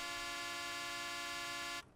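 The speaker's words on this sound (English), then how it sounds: "So there's the air horns." A loud, sustained truck air horn in Farming Simulator 19 blares steadily for almost two seconds, then cuts off abruptly.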